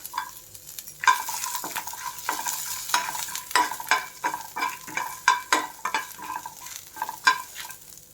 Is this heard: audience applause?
no